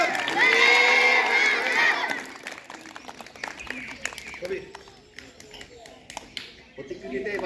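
Schoolchildren gather at a primary school Republic Day celebration: loud shouting and a voice come first, then scattered, uneven claps and crowd chatter at a moderate distance.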